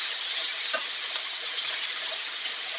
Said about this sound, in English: we've got a great sizzle going on.